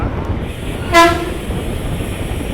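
A Narasapur–Cherlapalli express train sounds a single short horn blast amid a low rumbling hum of rail noise, as if pulling in nearby at platform 2 of Kaikaluru station.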